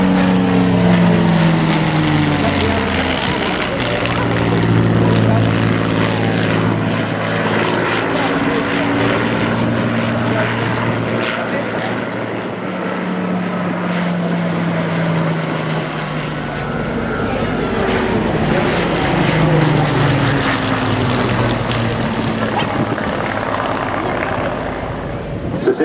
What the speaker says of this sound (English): Keep your eyes peeled left and right now as the Spitfire hands over to Hurricane.